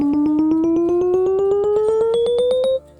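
A full octave climbs step by step in quarter tones of 24-tone equal temperament, about two dozen short, evenly spaced notes in a steady rising run that is loud and clean, then cuts off abruptly.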